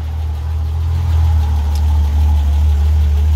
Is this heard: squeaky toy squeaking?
no